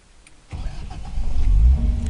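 A four-wheel-drive car's engine cranks and catches after a quiet moment, then settles into a loud low idle that swells slightly, close by.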